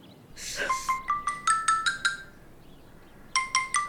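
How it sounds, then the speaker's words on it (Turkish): A mobile phone ringtone plays a bright, chiming melody of quick tone bursts that rise in steps, pauses briefly, then starts again. It is close and clear with no talking. "Telefon, telefon çalıyor."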